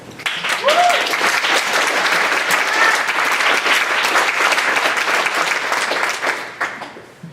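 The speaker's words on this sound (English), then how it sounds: "Please give them a huge round of applause." An audience at a community storytelling event applauds to welcome the next storyteller. The clapping is full and sustained for several seconds, with a brief voice near the start, and fades out at the end.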